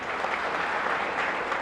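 Dense, steady applause from a large audience at a Hindi kavi sammelan poetry gathering, loud and continuous with no voices over it.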